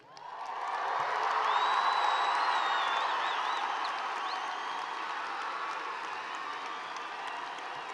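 A crowd at the 2024 Arbor View High School graduation cheers and applauds, swelling quickly to a loud sustained roar of clapping with high whoops and whistles, then easing slightly while it carries on.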